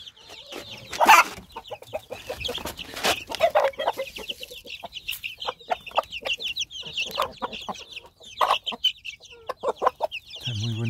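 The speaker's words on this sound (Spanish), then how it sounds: "Estos pollos están grandes" Chickens and young chicks cluck and peep continuously, with sharp higher calls scattered throughout, close by, in a busy farmyard setting.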